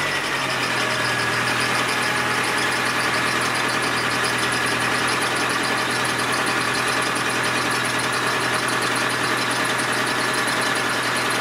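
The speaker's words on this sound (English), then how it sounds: "The car does run and drive, and I will prove that now." A smoky MG ZR Turbo car engine runs steadily at idle, a loud, continuous mid-pitched drone with a faint rhythmic knock and vibration, and no one speaks over it.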